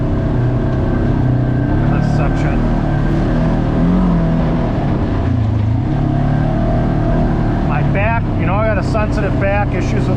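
A Polaris RZR Trail side-by-side with a CVT drones loudly and steadily on a 50-inch forest trail in Allegheny National Forest, engine noise constant throughout, with someone talking over it.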